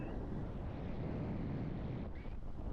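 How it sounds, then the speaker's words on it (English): Strong wind roars steadily across the microphone while riding an electric unicycle into a heavy headwind near Geraldton, a dense low buffeting rush that fills the whole clip with no speech. "I'm fairly used to riding in the wind"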